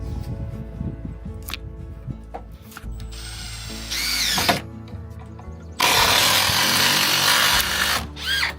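A power drill drives screws during the renovation of a 1940s hunting cabin. One short whirring burst is followed by a longer, louder sustained run, with ratcheting clicks and light tool handling in between.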